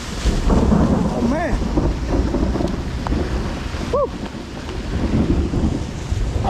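Heavy thunderstorm with steady, loud rain pouring throughout, broken by a deep rumbling thunder roll and a couple of sharp crackling bursts near the middle.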